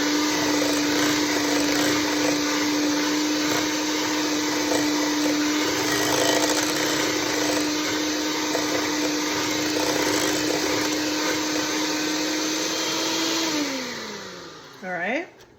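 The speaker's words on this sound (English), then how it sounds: "4 ounces of whipping cream added to the small bowl of cream cheese, sugar, and a tablespoon of milk. So I'm gonna mix this together." Electric mixer blending whipping cream into cream cheese, sugar and milk in a small bowl, a steady motor whir holding one pitch, then winding down and stopping near the end.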